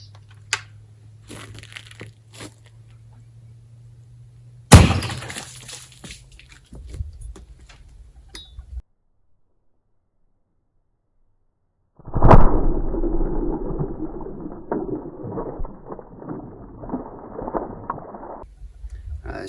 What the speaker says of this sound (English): we're going to take our shot into our 5-gallon bucket